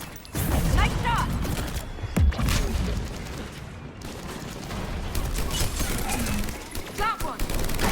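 Rapid bursts of gunfire from a firefight in Mass Effect 3 on Thessia, sharp repeated shots and booms layered over battle noise and combat chatter throughout.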